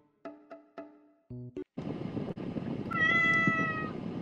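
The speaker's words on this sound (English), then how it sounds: "It's a cat." A cat meows several times in quick succession, followed by louder, longer cries and some electronic-sounding tones, with no talking.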